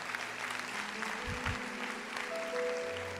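Church congregation applauding during a Portuguese-language sermon, a steady wash of clapping from a crowd at moderate level with a low hum underneath and no talking.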